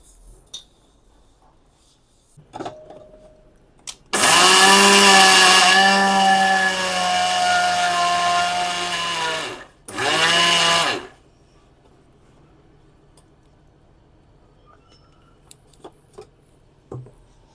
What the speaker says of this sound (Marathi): त्यानंतर आपण तीळ जवस आणि खसखस हे सुद्धा बारीक करून घेणार आहोत